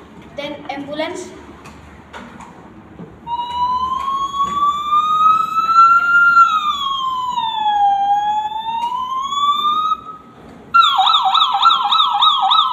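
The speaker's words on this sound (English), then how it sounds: "Then ambulance." A siren wails, slowly rising and falling, then switches to a sharper, faster warble; it is loud and steady throughout.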